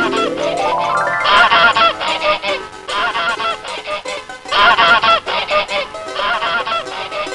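A goose honks loudly and repeatedly in bursts of harsh, nasal calls, close by and alone.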